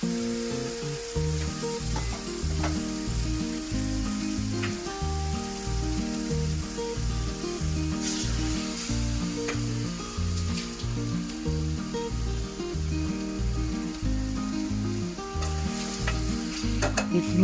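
Crab fry (nandu varuval) sizzles steadily in a pan while being stirred and mixed, with scraping strokes repeating throughout. The sound is close and moderately quiet, with no talking.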